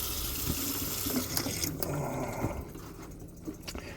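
Water runs steadily from a tap in an RV's newly replaced plumbing lines, a continuous splashing rush with a few faint knocks in the background, easing slightly toward the end.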